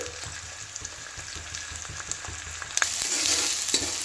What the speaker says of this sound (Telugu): పచ్చిమిర్చి, ఉల్లిగడ్డ గోల్డెన్ బ్రౌన్లో వచ్చేంత వరకు ఇలా వేయించుకోవాలి